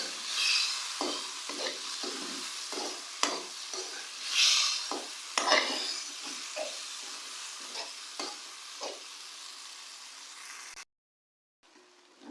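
A spoon scrapes and clacks repeatedly against a pot of moong dal lentils, stirring in an uneven rhythm over a steady sizzling hiss, close by.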